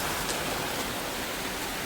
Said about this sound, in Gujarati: આ જુઓ વરસાદ ડેન્જર વરસાદ પડે છે